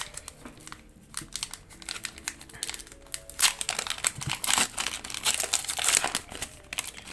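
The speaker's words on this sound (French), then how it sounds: "il nous reste 8 boosters à ouvrir" Pokémon card booster packs being opened, with close crinkling and crackling foil wrapper noise, tearing rips and flicking of cards, steady and busy throughout.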